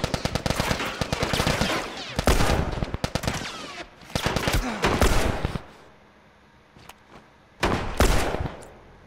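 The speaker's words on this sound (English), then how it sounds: "That guy has a Tommy gun" A Tommy gun in The Last of Us fires in rapid automatic bursts, loud sharp volleys separated by short pauses, with a few quieter single shots in between.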